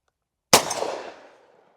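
A single suppressed shotgun shot from a 9-inch PSA 570 short-barreled shotgun with a YHM Victra-12 suppressor, a sharp close blast after silence followed by a decaying tail lasting about a second.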